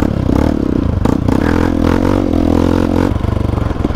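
A Yamaha YTX 125 motorcycle rides over a rough road, its engine droning loudly and close alongside steady rattling and scraping from the bumpy surface.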